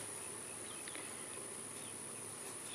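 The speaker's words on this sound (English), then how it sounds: "So these bees are just acting weird." Bees circle a fiberglass hive box set up temporarily beneath a tree, making a soft, continuous buzz that holds steady and faint throughout, with no voices.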